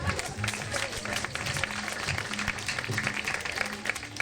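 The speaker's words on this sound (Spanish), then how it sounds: "Un aplauso, por favor." Audience applause during a Spanish-language storytelling performance, a moderate spread of clapping with a low tonal hum running underneath.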